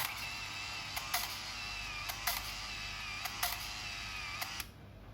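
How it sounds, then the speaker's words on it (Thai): A Ricoh FF-3D AF Super film camera's shutter clicks four times in a steady sequence, each sharp snap followed by the whirring of the film advancing, all close and with no voices. "ให้เรากดชัตเตอร์ไปหนึ่งครั้ง"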